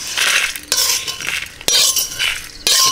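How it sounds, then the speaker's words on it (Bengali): Dry-roasted whole spices are tipped out of a pan, with three sharp clinks of metal marking the pour and rattling, scraping rustles between them, close and fairly loud. "ভাজা হয়ে গেছে, ঢেলে নিচ্ছি।"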